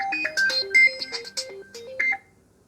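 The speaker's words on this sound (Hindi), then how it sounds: "यहाँ पर मैं आपको इस फ़ोन का स्पीकर चेक करवा देता हूँ। तो ये फ़ोन डुअल स्पीकर के साथ आता है" An Infinix Note 12 (Helio G96) plays a ringtone through its dual speakers, a bright melodic sequence of stepped electronic notes that rings loud and clear for about two seconds, then cuts off.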